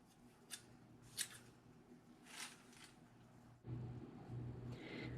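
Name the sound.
scissors cutting jute for fire starters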